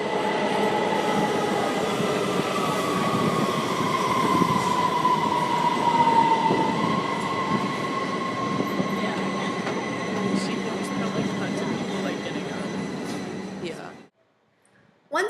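A metro subway train runs with a loud, continuous rumble, a rising metallic wheel squeal and faint rhythmic rail clatter for about fourteen seconds, then cuts abruptly to near silence before a brief final burst.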